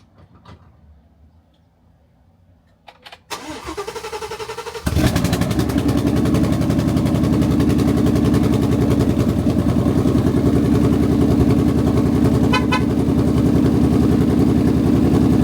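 Ford Mustang engine under repair cranks and catches, then settles into a loud, steady rumble that holds close and continuous for the rest of the stretch, with no talking over it.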